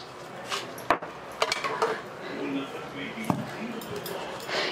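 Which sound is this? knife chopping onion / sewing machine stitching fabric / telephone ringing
knife chopping onion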